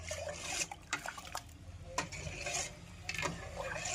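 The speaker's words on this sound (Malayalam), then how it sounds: "അരിയിട്ടുകൊണ്ടേയിരിക്കുക. ഇളക്കി കൊടുക്കണം." A pot of rice being stirred in boiling water, with repeated scraping and sloshing strokes close by over a bubbling, watery background.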